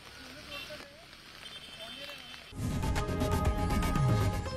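A heavy monsoon downpour in Churchgate, south Mumbai, comes in partway through as a dense, loud wash of falling rain, after a stretch of quieter talk.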